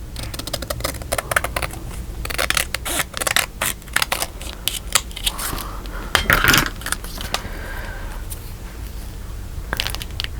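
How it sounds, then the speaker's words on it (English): Scissors snipping a paper strip for a Stamperia mini album page, a run of crisp close blade clicks and rustles in an uneven rhythm, one louder cut near the end, no talking. "Now let's see if we can cut a strip."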